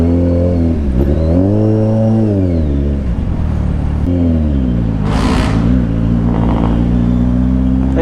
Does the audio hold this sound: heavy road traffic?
yes